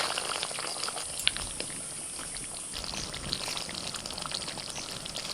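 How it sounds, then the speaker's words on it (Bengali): Fried potatoes go into a simmering white Bengali aloo dum curry in a pot, giving a steady soft bubbling and sizzling hiss with a few faint light knocks, no voices. "ভাজা আলু দিয়ে দিচ্ছি"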